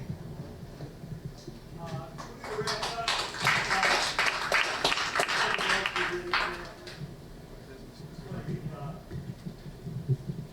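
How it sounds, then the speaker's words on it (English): Audience applause for a college sports panel builds into a dense, broadband burst of clapping mid-clip, then thins out again, with some talk around it. "Shout out to the whole panel, but hold just a second for the applause."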